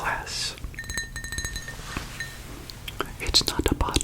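A glass of water clinks with a few light, bright chimes close to the microphone, mixed with soft whispering and small mouth and handling noises.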